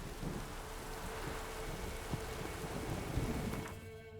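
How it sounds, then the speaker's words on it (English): Steady rain hisses across a stormy scene in The Witcher 3, with low thunder rumbling underneath and a couple of dull thumps, continuous and moderately loud. "Lightning strike."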